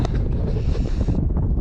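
Strong wind roars across the microphone on a foggy mountainside, a steady loud rushing buffet with no talking over it.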